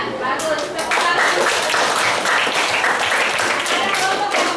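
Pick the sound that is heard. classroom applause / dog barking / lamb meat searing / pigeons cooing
classroom applause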